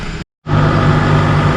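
A bus's engine rumbles loudly on a street at Union College in Schenectady, New York, a steady low drone with a brief cutout near the start, then continuing unbroken.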